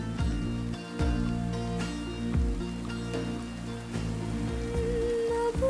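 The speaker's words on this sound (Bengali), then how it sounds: "বৃষ্টি কিন্তু বাড়ছে, পরে আরো ওষুধ বাড়বে।" Steady rain falling on surfaces, a continuous even patter mixed under background music with a sustained tonal bed, moderately loud and unchanging over several seconds.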